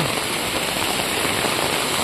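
Floodwater rushing through a village canal in Vagaikulam, Tirunelveli district, after heavy rain: a steady, loud broadband roar of flowing water, continuous and close, with no voices.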